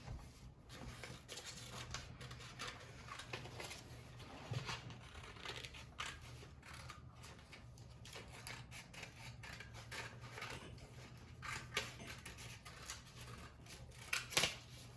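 Scissors snipping through paper as a circle is cut out, a steady series of quiet crisp cuts with a few louder snips near the end, heard close and without talk.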